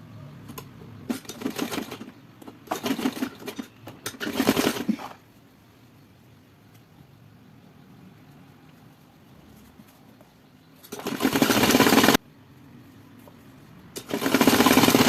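A sewing machine stitches corded piping onto a blouse in loud, rapid mechanical bursts: several short runs early on, a long quiet pause, then two more sustained runs near the end.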